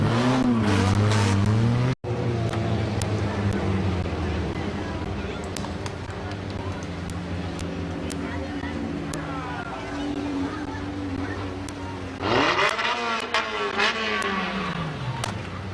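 Race car number 57 at Midvale Speedway rumbles into victory lane at low speed, engine idling and revving with a louder surge near the end, under a public-address announcer's voice.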